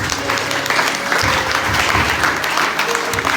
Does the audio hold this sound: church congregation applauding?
yes